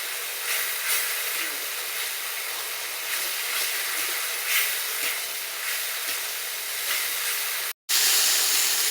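Water is splashed into fish curry spices frying in a pan, and a loud continuous hiss and sizzle holds steady throughout, close up, with a brief cut near the end.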